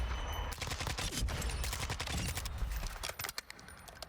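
Rapid automatic gunfire from a Call of Duty DMZ match, sustained bursts of loud close shots with a few brief pauses near the end.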